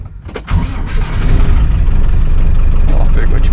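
A Land Rover Defender engine cranks briefly and catches on the first try, then settles into a loud, rough diesel-like idle that continues steadily up close.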